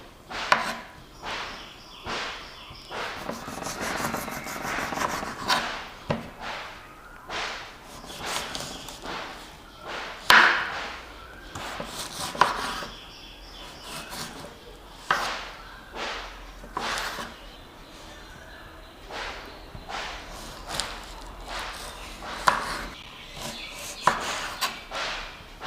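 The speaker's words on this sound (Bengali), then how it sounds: "এখন আমরা এঁচোড়ের খোসাগুলো বেশ ভালোভাবে ছাড়িয়ে নেব।" A knife works through raw jackfruit, cutting away the tough peel and hard core on a board, giving repeated crisp chops and scraping strokes at an irregular pace, close up, with a few louder knocks.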